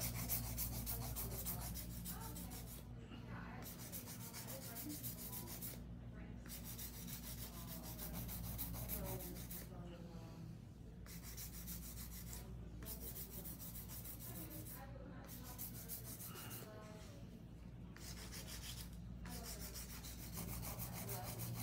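Steady rubbing rasp of a file shaping a full set of marble coffin nails coated in jade gel, smoothing the surface with light up-and-down strokes, close and continuous over a low steady hum, with brief pauses.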